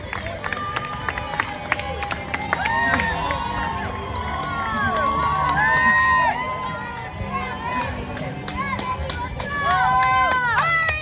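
Spectators cheering runners at a Disney marathon in Epcot, a steady crowd roar with shouts and whoops from nearby people, continuous across the whole stretch, with a voice talking now and then.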